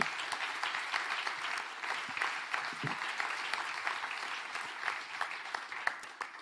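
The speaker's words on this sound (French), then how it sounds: "On peut l'applaudir aussi." A gala evening crowd applauds the foundation's deputy director, a steady wash of many hands clapping at moderate distance that continues without a break.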